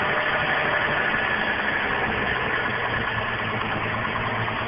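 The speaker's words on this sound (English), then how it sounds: "And I'm just going to turn my idle down a little here." A Toyota 7M-GTE engine idles steadily as the idle is turned down, a continuous close, loud rumble with dense broadband hum throughout and no talking.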